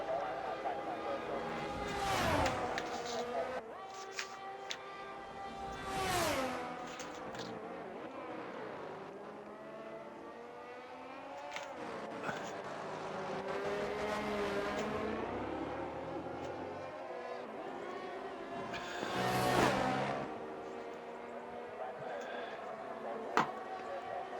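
A race car pulls away at Silverstone in a club race, its engine rising and falling through gear changes and repeated revving surges, loud then fading, with commentary running over it.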